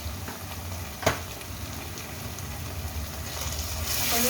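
Turmeric and green chili paste with ginger-garlic paste sautéing in a pan, a steady soft sizzle with one sharp clink near the start and the frying growing a little brighter toward the end.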